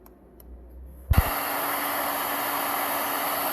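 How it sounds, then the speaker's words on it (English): A hair dryer on low heat, powered by a 1 kW 12V inverter, clicks on after a moment of quiet and runs with a steady, even whoosh of blowing air, close by. "We're going to start off with one of the ladies' favorite appliances, a hairdryer."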